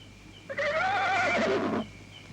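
A frightened horse near a cemetery lets out a single close, loud whinny lasting just over a second, its quavering pitch rising and falling over a quiet background hum.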